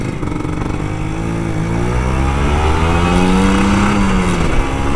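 An old Kawasaki Ninja RR 150 two-stroke motorcycle revs up close and loud, its raspy engine note climbing steadily in pitch as the throttle opens over five seconds, with no voices.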